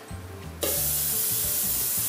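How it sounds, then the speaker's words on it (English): An aerosol can of cooking spray lets out a steady, loud hiss that starts abruptly and runs without a break to the end. "Again, spray the rats away."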